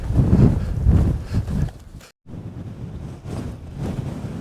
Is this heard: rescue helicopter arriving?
no